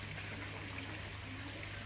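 An air pump pushes air into a koi pond, making a steady, continuous bubbling hiss of churning water that holds an even level throughout with no voices.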